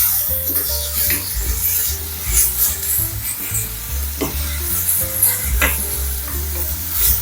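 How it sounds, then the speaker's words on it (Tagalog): Tomatoes sauté with toasted garlic and onion for pinakbet, giving a loud continuous sizzle with brisk scraping stir strokes, and music playing softly underneath. "Gisahin lang natin hanggang sa madurog."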